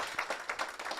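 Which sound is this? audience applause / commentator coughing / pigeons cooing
audience applause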